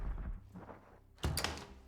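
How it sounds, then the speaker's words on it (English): A door in a video game opens and closes: a soft rattling movement, a brief lull, then a sharp louder thunk as it shuts, heard close and alone. "I opened the door and closed it just for you"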